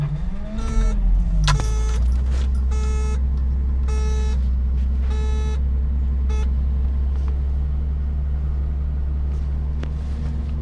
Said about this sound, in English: Come along for a ride in the 280Z.